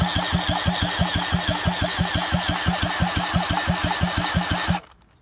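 An old restored engine, its rusted cylinder just freed of a seized piston, runs with a fast, even chugging pulse at close range, loud and steady, then cuts out abruptly near the end, leaving quiet.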